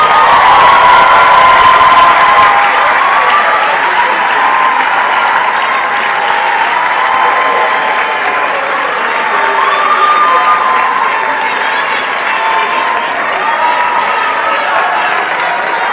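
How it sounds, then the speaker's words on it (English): Sustained clapping from a large audience at a graduation ceremony, loud at first and then continuing steadily at a slightly lower level throughout. "Can we give a round of applause to Michelle Lawson and Joan Hong Cho?"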